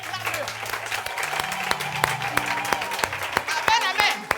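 A church congregation applauds the Lord in a dense, sustained round of clapping and cheering that fills the room, with voices and calls mixed in throughout and sharp individual claps standing out.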